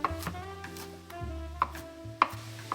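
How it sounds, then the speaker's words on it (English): Knife chopping washed kale on a cutting board, a portion at a time: sharp, close thuds land irregularly a few at a time, over a backdrop of steady background music. "A portion at a time and chop it."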